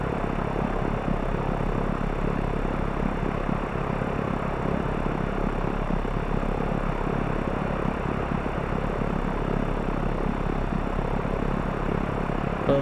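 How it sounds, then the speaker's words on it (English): Alabeo M20R Ovation propeller plane in a flight simulator game, taking off from the runway at Milano Bresso, with a loud, steady engine and propeller drone that holds unbroken throughout. "taking off runway 36, will be departing to the south"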